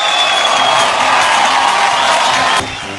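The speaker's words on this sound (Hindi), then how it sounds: "एक बार हमारे जीके साहब के लिए जोरदार तालियां हो जाए" Loud, sustained applause and cheering from an awards-show audience, a dense steady roar of clapping that drops off sharply near the end.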